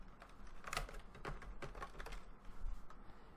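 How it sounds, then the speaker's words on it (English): Fingers tap quick, irregular bursts of keystrokes on a computer keyboard while entering text on a Windows 10 PC, soft, close clicks in short runs. "and just start typing in."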